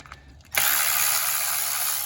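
Ratchet wrench working 10mm valve cover bolts on a Toyota Camry engine: a few quiet clicks, then a loud, close, continuous rapid ratcheting rattle to the end.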